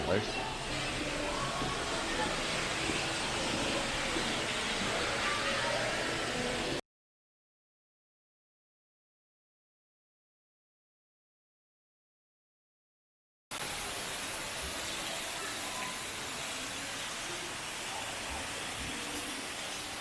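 Indoor waterfall dropping 40 feet from a ceiling into a pond inside a large sporting goods store, a steady broadband roar of falling water that runs continuously, cuts out, then resumes at the same level.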